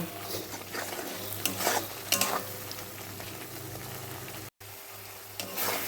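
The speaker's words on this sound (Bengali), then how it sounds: "হলুদও দিয়ে দিলাম দিয়ে এটাকে পুরো কষিয়ে নেব" Chicken being stir-fried with salt and turmeric for a light Bengali chicken curry, a steady close sizzle broken by repeated scraping stirs of a spatula against the pan.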